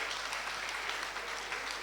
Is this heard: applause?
yes